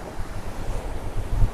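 Rough sea at the Mirissa coast after a storm: continuous rumbling surf mixed with gusty wind buffeting the microphone, with no voices.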